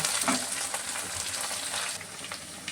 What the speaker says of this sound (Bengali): আলু পেঁয়াজকলিগুলো বেশ সুন্দর ভাজা ভাজা হয়ে গেছে